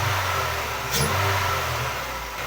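A Honda car engine revving while running lean, a loud, continuous, close-up mechanical roar with a slight swell in the middle and no talking.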